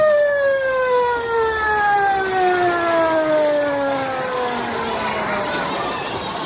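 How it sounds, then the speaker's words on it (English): A wailing siren moans through a 1946 ABC radio drama, its rising tones gliding slowly downward as it winds toward stillness, loud and sustained over a murmuring crowd background. "The siren moaned to stillness, but there was no peace."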